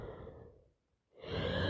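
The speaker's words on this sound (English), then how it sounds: "blowing my nose" A person with a bad cold blows their nose close to the microphone: a rough, breathy burst that fades to a short silence, then a second, louder and longer honk of air.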